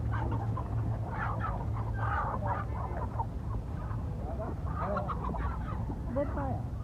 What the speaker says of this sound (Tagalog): Ah, ang daming manok oh.